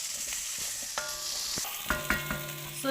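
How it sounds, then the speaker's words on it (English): Potatoes and green peas are stirred with masala in a hot pan, a spoon scraping and knocking against the metal over a continuous sizzle, with a few sharper clinks near the end. "And I'll try and mix it up, coat it up with the masala."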